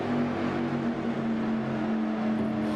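Race cars in the iRacing sim racing game drone steadily with a sustained engine tone, a continuous mid-level motor hum without clear passes or gear changes.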